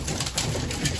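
Soft, low homing pigeon cooing close by, a muffled throaty murmur lasting about a second.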